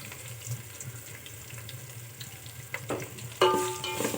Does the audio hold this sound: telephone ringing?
no